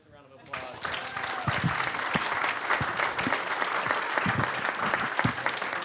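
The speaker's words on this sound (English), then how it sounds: "let's give the candidates a round of applause" Applause for candidates at a county supervisor candidate forum in Santa Cruz, starting abruptly after a brief pause and holding as a dense, steady roomful of clapping with scattered louder claps and faint voices mixed in.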